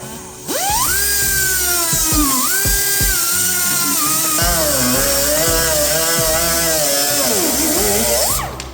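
A cutoff wheel slicing through a plastic Toolgrid organizer gives a loud, continuous high-pitched whine with rising and falling pitch as the blade loads and frees, running for about eight seconds.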